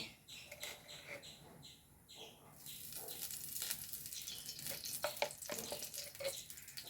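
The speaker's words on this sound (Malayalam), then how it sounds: "ഉരുളി ചൂടായിക്കുന്നു ഇതിലേക്ക് ഞാൻ കുറച്ച് നെയ്യ് ഇട്ട് കൊടുക്കുന്നുണ്ട്" Ghee heating in a hot urli for Onam kadala parippu payasam, starting as faint crackles beside birdsong, then swelling into a steady frying sizzle with scattered pops, close and moderately loud.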